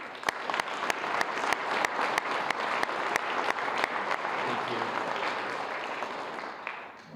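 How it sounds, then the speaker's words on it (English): Crowd applause at a Chamber of Commerce awards gala, sustained clapping with a few sharp, distinct claps standing out up front, gradually thinning toward the end, with a brief spoken thanks. "Let's just give them a round of applause for help make this event happen."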